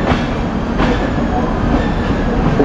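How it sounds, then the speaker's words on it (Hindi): Bilaspur–Rewa Express being reversed onto platform 6 at Bilaspur railway station, giving a steady, loud rumble of rolling railway cars with faint clattering wheels throughout, close by and without speech. "ये हमारी Bilaspur Rewa express platform number 6 पे रिवर्स लगाई जा रही है।"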